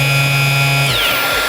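A cordless gearless Steelforce angle grinder with a cutting disc fitted, its motor driving the disc directly from the head, runs with a steady, fairly quiet high whine that drops away as it starts to spin down.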